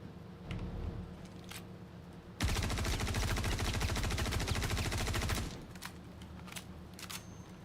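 Sustained burst of rapid automatic gunfire from a weapon in the video game Star Citizen, loud and dense for about three seconds, with quieter ambient hum and a few faint clicks before and after.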